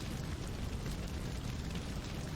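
Explosion in the superhero action game Marvel Ultimate Alliance, a dense, loud, sustained roaring rumble of blast noise with no distinct onsets, filling the whole moment without speech.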